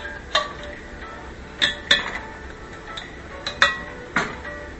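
A ladle clinks against a pot as homemade roasted tomato soup goes back in to simmer, giving several light, sharp metallic taps spaced irregularly, close by with a quiet kitchen background.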